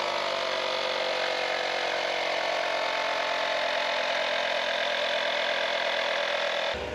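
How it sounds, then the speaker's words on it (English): A portable tire inflator pumps air into a flat truck tire out in a forest, a steady dense mechanical buzz running unbroken for several seconds before cutting off abruptly at the end. "While the tire inflator is slowly doing its thing, it's only up to about 10 PSI"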